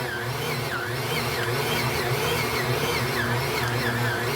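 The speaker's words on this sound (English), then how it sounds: "While your dough is getting mixed" Stand mixer beating donut dough, with a steady, continuous motor whir and a rhythmic churning, close and moderately loud with no talk.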